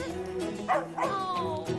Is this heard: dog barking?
yes